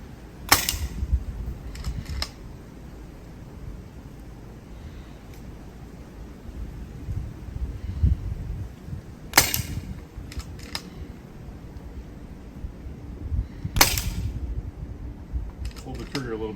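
An AirMaks Katran CB airgun fires three sharp, close shots a few seconds apart while cutting playing cards, each crack standing out over faint background noise, with someone talking between shots.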